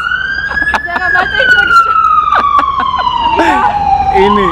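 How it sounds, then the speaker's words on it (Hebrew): An ambulance siren wails loudly and close by, its steady tone sliding gradually downward as it passes, with people talking over it. "רגע, רגע, רגע, יש אמבולנס"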